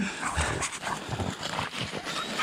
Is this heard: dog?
yes